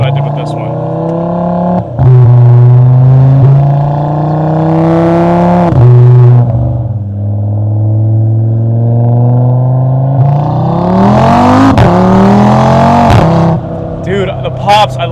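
An Audi RS3 fitted with an aftermarket exhaust revs hard and loud, engine pitch rising and falling through repeated throttle blips with crackling pops, close by, under occasional talk.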